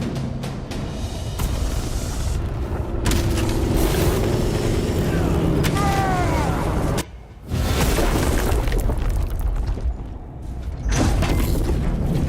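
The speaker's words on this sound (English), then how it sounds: "I hear engines" Spaceship engines roar in the Space Marine 2 video game, a loud sustained rumble with deep booms and mechanical creaks, briefly cutting out midway before resuming.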